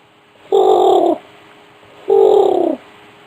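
Man imitates pigeon cooing with his voice, two loud, close, drawn-out coos about a second apart, each smooth and steady with a brief pause between.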